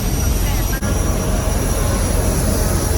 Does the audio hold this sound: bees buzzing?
no